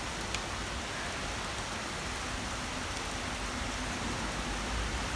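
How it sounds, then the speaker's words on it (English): Heavy rain pours steadily during an intense thunderstorm with tornado and strong winds, a dense, even hiss of water on surfaces close by, with no thunder or voices standing out. "there's a very intense thunderstorm, tornado, very intense winds"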